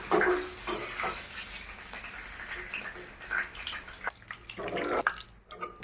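Ginger, green chilies and garlic sizzle in hot oil for a mulberry pickle, stirred with a spoon scraping the pan. A continuous close fry with louder scrapes and clinks throughout, no talking.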